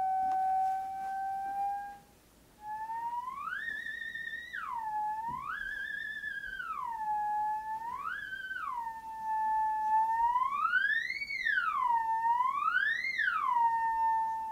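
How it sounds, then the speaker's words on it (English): A lone theremin sings a smooth, gliding tone that swoops up and down in wavering arcs, steady and clear with no other sounds. "Okay, so that's the sound of the theremin by itself."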